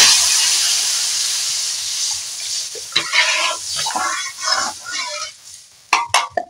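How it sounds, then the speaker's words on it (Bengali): Turmeric frying in hot oil in a pan while a magur catfish dish is cooked, giving a steady broadband sizzle throughout, with some stirring clatter and a few sharp knocks near the end. "হলুদটা দিয়ে আমি এই তেলের সঙ্গে ভেজে নিচ্ছি"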